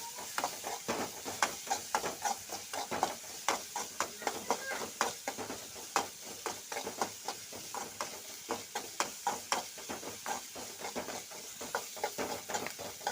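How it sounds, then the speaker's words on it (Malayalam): Ginger stirred in a frying pan for ivy gourd pachadi, a steady hiss of sizzling oil broken by a rapid series of scraping spoon strokes, close and fairly loud with no talking. "ഇനി നമുക്ക് ഇഞ്ചി ഇട്ട് കൊടുക്കാം ഇത് നന്നായിട്ട് ഇളക്കി കൊടുക്കാം"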